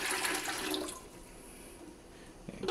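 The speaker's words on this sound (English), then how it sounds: "Let's just dump all the water from here" Water gushes out of a humidifier tank as it is dumped, a loud rushing pour for the first second that tapers into a softer trickle and drip.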